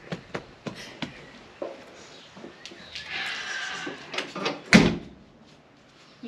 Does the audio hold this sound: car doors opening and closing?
yes